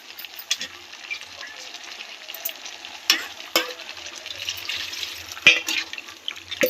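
Mutton curry mixed with coconut powder being stirred in a pot, quiet scraping and wet stirring strokes with a few sharp clicks and knocks against the pot, close and fairly soft, no talk.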